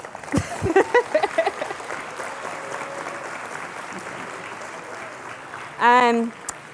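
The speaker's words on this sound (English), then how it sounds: "Okay, you can clap." An audience at a winter retreat talk applauds with a broad, steady wash of clapping throughout, a voice briefly heard near the start and end.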